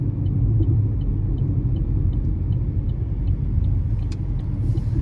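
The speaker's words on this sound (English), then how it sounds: "I heard the road noise a lot more than I heard the wind coming through the windows." Steady road noise and low tire rumble inside a 2019 Chevrolet Trax LS 1.4T on the move, a continuous even drone with no talking.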